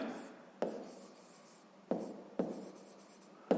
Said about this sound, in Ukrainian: Давайте запишемо, що нехай